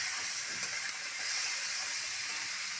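A pan frying the base for a drumstick-stem (sajne data) chorchori gives off a steady, loud sizzling hiss, close and unbroken, with no voices over it.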